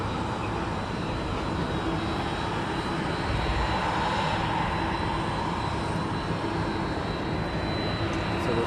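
A jet aircraft taxiing on the airside apron at East Midlands Airport gives a steady, continuous engine roar with a constant whine, moderately close and holding level throughout with no talk.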